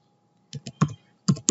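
Five crisp, close keystrokes on a computer keyboard while a web address is typed into a browser, the clicks coming in a short uneven burst with no talking.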